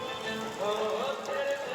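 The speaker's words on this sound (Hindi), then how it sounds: "बारिश तो होता रहा पूरे रात, पूरे बाजार में पानी ही पानी भर गया था" Night rain at a Durga Mela fair in Muzaffarpur gives a dense, steady patter on surfaces, with faint tonal background sounds mixed in.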